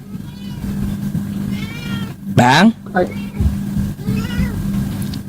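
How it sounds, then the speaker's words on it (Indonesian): A cat meows once, loud and close with a rising, wavering call, followed by a fainter second meow, over steady background hum while a person talks nearby. "Apa ini kucing?"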